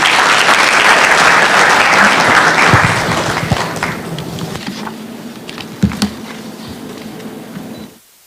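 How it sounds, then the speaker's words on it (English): Audience applause at the Africa Employers Summit in Nairobi, loud steady clapping from a large crowd that fades over several seconds into scattered claps and room noise before cutting off. "Please give her a round of applause."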